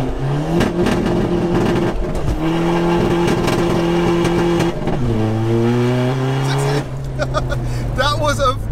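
A NOS-powered 600bhp 1.9 TDI Seat Ibiza accelerates hard on a run, its loud engine note climbing through stepped gear changes, with a brief lift and re-rise near the end and voices of onlookers mixed in.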